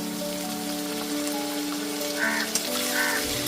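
Onion sizzling and frying in a pan with ginger, green chili and garlic paste for a Bengali mutton curry, a steady close crackle throughout with a couple of brief louder spits near the end.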